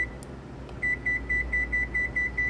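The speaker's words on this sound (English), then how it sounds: "So I'm going to go ahead and set the timer for 30 minutes." A kitchen timer set for an oven-baked veggie egg bake gives a run of about nine short, evenly spaced high beeps. The beeps are moderately loud over a low background hum.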